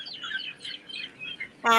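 Turkeys on a turkey farm calling in a rapid run of short, high chirping notes, closed by one louder, harsher call close by.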